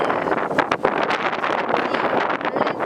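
Strong typhoon gusts buffet the microphone outdoors at a shopping outlet in Osaka, a loud, steady roaring rumble with rushing bursts throughout and no speech.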